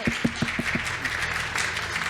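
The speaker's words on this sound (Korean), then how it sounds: "따뜻한 박수로 환영해 주시길" A church congregation at a worship service applauds to welcome a new member: a few distinct claps at first, then a softer, continuous patter of many hands.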